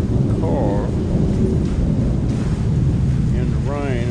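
Steady rain falls outdoors as a dense, even hiss with low rumbling wash, filling the whole stretch; a couple of faint vehicle whines rise briefly in the background.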